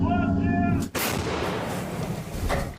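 A Ukrainian Bohdana self-propelled howitzer fires a single heavy blast close by, cutting through an engine's drone and trailing into a long rumbling roar.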